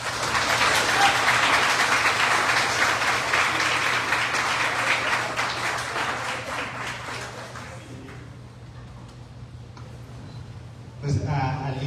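Audience applause at a talk on mental health, a dense sustained clapping for about eight seconds that fades out, followed by a brief sound near the end.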